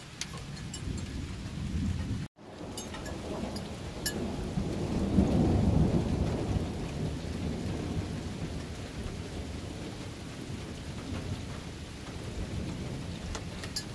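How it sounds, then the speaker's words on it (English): Thunder rolls as a long, deep rumble through a rainstorm, swelling and fading slowly over steady close rain patter, with one brief dropout near the start. "That thunder sounded super slow motion."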